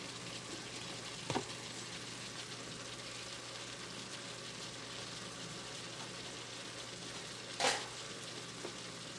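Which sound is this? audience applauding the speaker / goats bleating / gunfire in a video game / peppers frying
peppers frying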